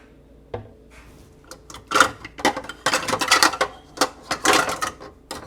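Dishes and utensils clatter and clink close by in busy, irregular bursts, like items being moved around and stacked during kitchen cleanup while baking Scottish oatmeal rolls.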